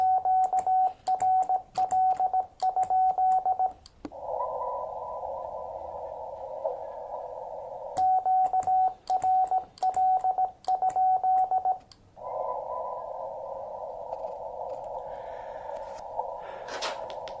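A Xiegu X6100 radio with an MFJ-1898 telescoping antenna repeats a cycle of rapid pulsed beeps followed by a long, steady buzzing tone, with crackly static bursts between cycles, outdoors.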